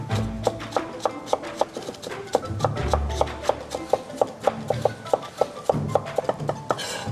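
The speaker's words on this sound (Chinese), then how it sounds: "我们把香菇切成这种小丁，也不用剁得特别碎" A knife chops soaked shiitake mushrooms into small dice on a cutting board, a close series of sharp, fairly regular taps, about three or four a second, with no talk over it.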